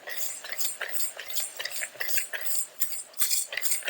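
A spoon stirs and mixes homemade eucalyptus dishwasher powder in a container, giving a steady run of close, gritty scraping strokes in an uneven rhythm, alone without speech.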